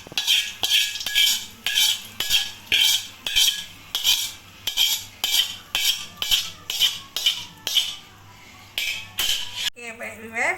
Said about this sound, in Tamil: நல்லா கிண்டி விடுவோம்.